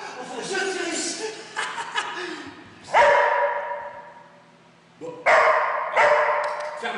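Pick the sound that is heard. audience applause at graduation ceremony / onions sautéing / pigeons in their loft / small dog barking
small dog barking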